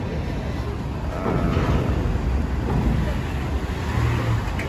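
Private cars rolling off a ferry at Merak port, a steady rumble of engines and tyres with vehicles passing close by and some revving, continuous and fairly loud.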